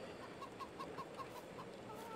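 Chickens clucking on a farm in the video game Farming Simulator 22: a run of short, evenly spaced clucks over a soft, continuous farmyard background at low volume.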